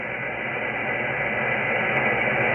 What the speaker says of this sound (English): A lot of noise, too, from this solar flare.